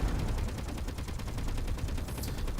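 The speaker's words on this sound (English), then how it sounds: "Hear those explosions." Rapid explosions and gunfire-like bursts in the video game Space Engineers, a dense, continuous crackling barrage at moderate loudness with no talk over it.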